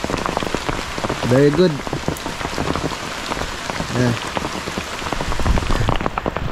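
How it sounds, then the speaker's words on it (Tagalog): Heavy rain pours down steadily during a storm in Campanalig, a dense, unbroken hiss that stays loud throughout, with brief voices speaking over it. "Ang lakas ng ulan"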